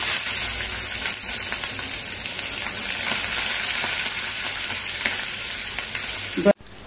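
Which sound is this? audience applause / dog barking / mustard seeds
mustard seeds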